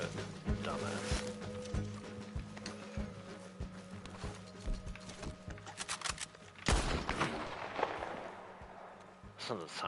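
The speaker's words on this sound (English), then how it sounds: "Listen to the sound of that gunfire on the canyon" Gunfire cracks and echoes across a canyon in the video game Red Dead Online, scattered shots ringing out at a moderate distance over a soft game background, with a burst of denser shots near the end.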